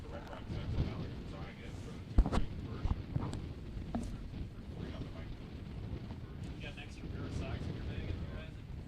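Wind buffeting a microphone outdoors at a varsity football game between the RRC Falcons and Nicollet Raiders, a constant low rumble with occasional gusty thumps, while a voice talks faintly underneath.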